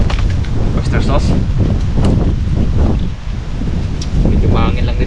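Strong gusty wind buffeting a microphone outdoors by a river, a constant loud rumbling roar with no letup over the whole stretch.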